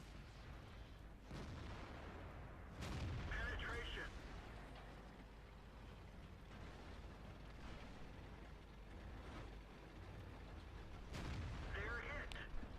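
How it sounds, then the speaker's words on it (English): A 100mm tank gun firing rapidly in World of Tanks: several heavy booming shots spaced a few seconds apart, each followed by a clanking reload, under steady rumbling battle noise with someone talking throughout. "you can see there the excellent rate of fire of the 100mm."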